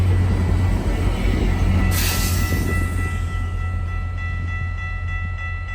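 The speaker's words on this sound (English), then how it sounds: "6407 was blowing its horn too" Passenger train led by locomotive 6407 rolling past with a steady low rumble and wheel noise, a horn blast sounding briefly and sharply near the middle over the train's continuous roar.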